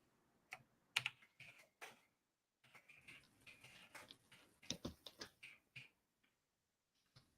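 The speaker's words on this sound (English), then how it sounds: "It's me typing." Quiet, close clicking of fingers typing on a computer keyboard comes in irregular bursts with brief pauses between them, faint and alone.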